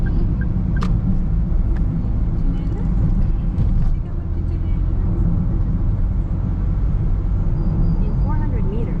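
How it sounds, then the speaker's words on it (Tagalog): A big truck rumbles along the road with a steady, loud low roar of traffic, heard from inside a moving vehicle while people talk over it. "Laki ng truck."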